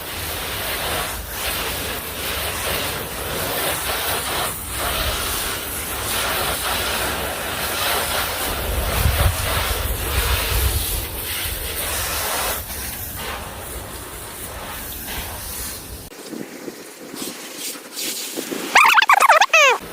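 A cheap Profilex pressure washer lance with weak pressure sprays water onto car bodywork, giving a steady, broad hiss and splash that runs for about sixteen seconds and then cuts off abruptly.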